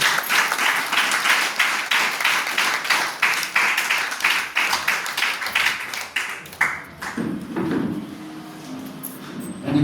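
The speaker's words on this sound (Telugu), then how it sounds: "గట్టిగా చప్పట్లు పడతారు." A church congregation claps loudly and rhythmically in sharp, close bursts for about seven seconds, then the applause fades out and a voice takes over.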